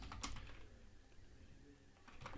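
A command is typed on a computer keyboard, a short burst of quiet keystroke clicks with a brief pause in between.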